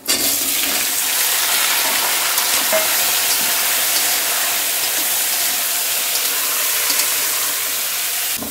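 Whole tempering spices and chillies frying in hot oil for moong dal, a loud, continuous close sizzle with light stirring and no talk.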